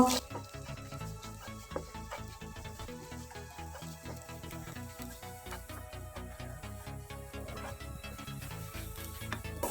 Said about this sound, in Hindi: 1 कप के करीब में बंद गोभी है, इसको हम आधा मिनट पकाएंगे। तेज आंच पे पकाना है अपनी ये सारी चीज़ों को